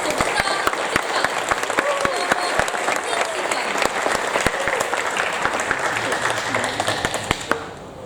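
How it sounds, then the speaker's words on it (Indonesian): Enthusiastic audience applause for the Teater Prada theatre group, sustained dense clapping from a crowd, loud and close, trailing off near the end, with a voice faintly present underneath. "Beri tepuk tangan yang meriah untuk teater Prada dalam judul Sebentang Cengkar."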